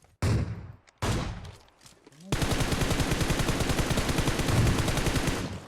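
Gunfire in PUBG Mobile: two short bursts of shots, then a long, loud, continuous automatic-weapon burst that rattles on for several seconds, close and dominant with no talk over it.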